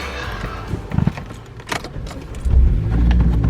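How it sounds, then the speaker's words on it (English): Keys jangle and rattle in a car at the end of a workday, then the engine cranks and catches into a steady low idle that fills the cabin, close and fairly loud with no talking. "And the car starts."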